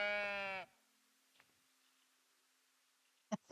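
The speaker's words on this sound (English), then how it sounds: "You can pet the sheep." A single sheep in the Tiny Glade video game gives one clear, close bleat at the start, followed by near silence broken only by a couple of faint soft clicks.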